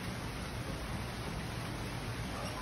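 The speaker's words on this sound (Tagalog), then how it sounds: "Walang tigil lang ulan ngayon." Steady, dense rain from Typhoon Kristine pours down in Bulacan, a constant broadband hiss with no break.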